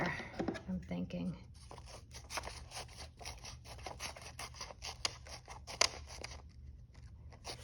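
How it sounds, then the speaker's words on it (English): Scissors snip repeatedly in close, quick rhythmic cuts through paper, fussy cutting a junk journal scrappy pad, with someone talking over much of the cutting. "So I'm just doing some fussy cuts so we could get that raw edge"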